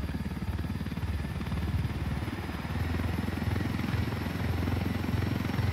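A helicopter in the video game Ghost Recon Wildlands makes a steady, loud rotor thrum with fast rhythmic chopping and engine whine, sustained throughout with no talk.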